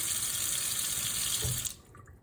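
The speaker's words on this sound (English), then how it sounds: "This is water trickling from a faucet. And now it is running in a stream." A kitchen faucet runs in a full steady stream, giving a constant close rushing hiss that cuts off abruptly near the end, leaving near silence.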